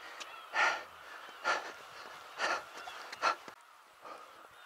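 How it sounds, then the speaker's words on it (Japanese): Black-tailed gulls call from distant seabird feeding flocks off Teuri Island, giving five or six faint, hoarse bursts spaced about a second apart over a soft background hiss. "ここまでウミネコの鳴き声が"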